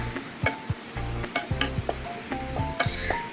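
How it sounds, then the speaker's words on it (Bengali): Ground ginger, garlic and cashew paste hits hot oil for a chicken malai curry, giving a steady sizzle broken by clinks and scrapes of a spoon against the pan, close and fairly loud with no talking. "তেলটা গরম হয়ে গেলে এই বাটা মশলাটা দিয়ে দেবো"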